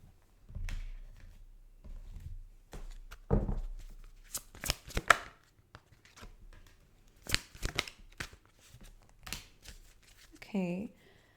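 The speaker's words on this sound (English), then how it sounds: "I'm going to pull the cards out first, as I always do" Tarot cards are shuffled and handled in a quiet room, giving sparse, crisp bursts of riffling and snapping with pauses between them, and a short vocal sound near the end.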